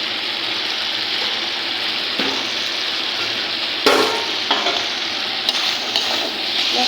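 Spice masala for a fish curry with potatoes fries in a pan with a bright, dense sizzle. A few clinks and scrapes from stirring rise above it, and a sharper burst comes partway through.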